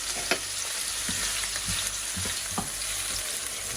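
Eggplant pieces fry in a single layer in a hot pan, a dense, steady sizzle close by with scattered low knocks and scrapes from turning them.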